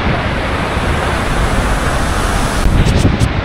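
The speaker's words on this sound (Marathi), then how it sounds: "मित्रांनो, भरपूर प्रमाणात वारा आहे." Strong wind gusts past the Kelavali waterfall in Satara, a dense, steady roar of rushing air and falling water that swells slightly louder near the end, with no voices.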